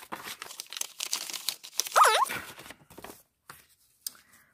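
Paper cash bills rustle and crinkle as they are counted and stuffed into small budget envelopes, a busy stretch of close handling that thins to a few soft taps; a brief voiced sound cuts in midway.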